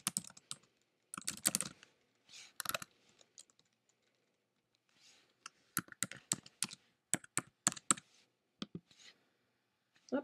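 Someone types a password on a computer keyboard, quiet bursts of key clicks in short irregular runs separated by pauses, close and fairly soft.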